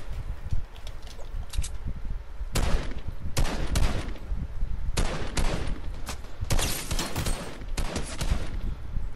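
Assault rifle fire in the battle royale game Fortnite crackles in repeated bursts and single shots throughout, loud and fairly close, with short pauses between volleys and no talking.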